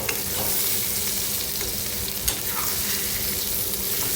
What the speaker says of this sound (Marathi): असं हळूहळू हलवून घ्यायचं आहे म्हणजे हे बाकीचं अंड्याचं भाग आहे तोही आपला व्यवस्थित भाजून निघेल